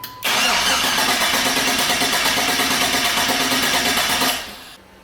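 A car engine cranking on the starter during a compression test, a steady rapid rhythmic whirring chug lasting about four seconds before winding down, loud and close with no talk.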